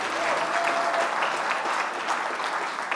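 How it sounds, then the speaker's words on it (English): An audience claps for a food justice group's faculty at an awards event, a dense, steady round of applause filling the space without pause. "Let's give them a big, roaring round of applause."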